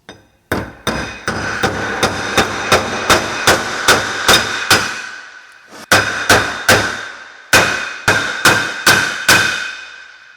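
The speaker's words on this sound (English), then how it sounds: "The dowel pins will go back in a lot easier than they came out" Metal dowel pins being hammered back into a flywheel, sharp ringing metallic strikes in quick regular bursts with short pauses between groups, loud and close.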